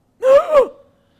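A single sharp, close gasp with a quick rising breath, loud and isolated against silence, from a participant on a gaming podcast.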